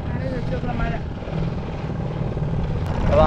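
A small motorboat engine drones steadily and close on Kerala backwaters near Kollam, a loud continuous throbbing hum that barely varies across the short stretch.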